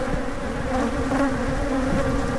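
Bees or wasps buzz steadily and continuously, a close, dense insect drone with no talk.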